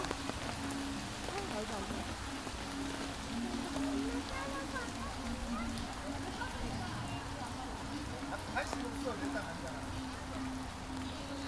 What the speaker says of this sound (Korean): 하지만 비가 오는 게 좀 흠이네